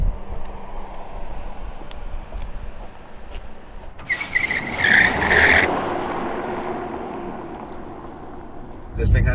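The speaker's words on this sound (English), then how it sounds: "I think it's time to try this thing on the road, do a little bit of a 0 to 100." A Tesla of about 1,020 horsepower launches from 0 to 100 on a road. A low background hum gives way midway to a rising electric whine and tire noise, with voices around.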